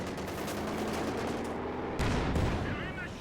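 Sustained infantry gunfire from a World War II real-time strategy battle between Panzer Grenadiers and rear-echelon troops, dense overlapping shots and bursts with a louder volley near the end, under a steady game soundscape.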